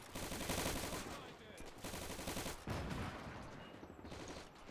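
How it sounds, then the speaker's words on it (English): Sustained bursts of Vickers machine-gun fire in the WWII game Gates of Hell: Ostfront, set in Libya in 1941, with rapid rhythmic clatter over dense battle noise and a short break partway through. "I think that's a Vickers machine gun"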